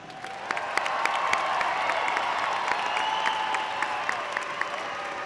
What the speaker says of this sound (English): Let's give ourselves one more round of applause.